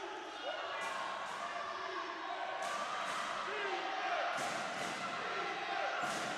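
A basketball arena crowd in Winston-Salem during a women's college game rises in a steady, loud roar with repeated sharp squeaks and slaps throughout, under an announcer's speech.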